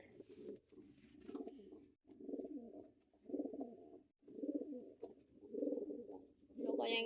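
Pigeons coo outdoors in repeated soft, low bursts separated by short pauses, fairly close and steady in level, with no talking over them.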